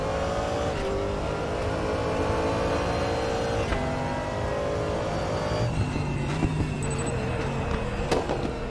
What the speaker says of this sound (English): you can hear the tires scrubbing